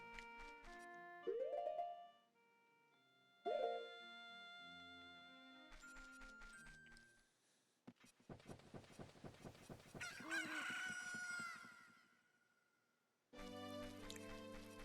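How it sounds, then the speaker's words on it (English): Rooster-like cucco crowing in The Legend of Zelda: Ocarina of Time near the Lost Woods, with rising honking calls over game music, then a longer, louder crow-like burst, all without talk. "when you walk into the forest, Kojiro will crow"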